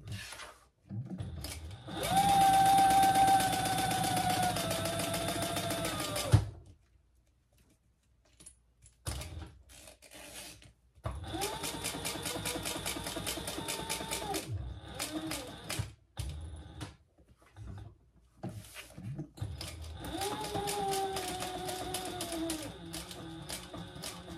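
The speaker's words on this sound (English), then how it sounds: "Back stitching over the ends." A sewing machine back stitching the ends of a faux snake crossbody bag, running in three long bursts of fast, even whirring separated by pauses filled with quiet clicks and handling sounds.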